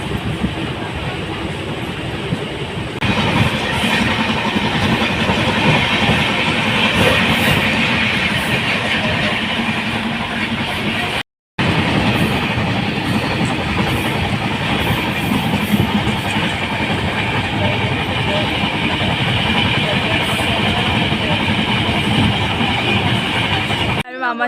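A train runs steadily on rails with a continuous clattering rumble and rhythmic clickety-clack, loud and close throughout, with a brief dropout midway.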